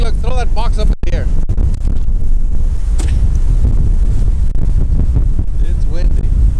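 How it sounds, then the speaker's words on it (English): Strong wind buffets the microphone outdoors at a long-range rifle shooting range, a loud constant roar with low rumble throughout, and a voice briefly heard over it near the start. "Oh man, it's windy."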